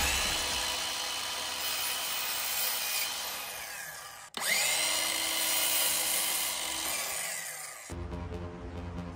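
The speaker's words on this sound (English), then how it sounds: "I busted out my DeWalt cordless miter saw. This thing is perfect for cutting dowels" A DeWalt cordless miter saw whines loudly and steadily as it cuts through a wooden dowel, with a brief dip partway through before the blade spins back up, then winds down into quieter rattling.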